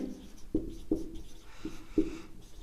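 Chalk or pen writing on a board for a grammar lesson, several short tapping strokes in an uneven rhythm over a quiet room hum.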